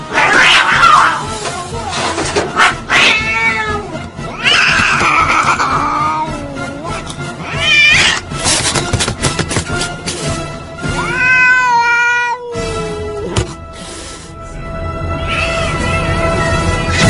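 A cat meows and caterwauls over and over, with loud, drawn-out rising and falling yowls through the whole stretch and a short pause near the end.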